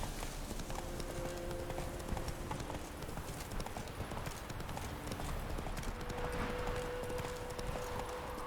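Horse hooves clip-clop steadily at a walking pace in The Witcher 3, a continuous rhythmic clatter with faint game ambience and tonal sounds running underneath.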